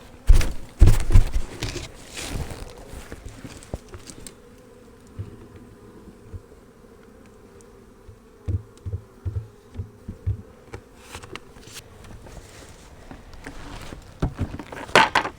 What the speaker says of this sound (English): Got a few bees on here.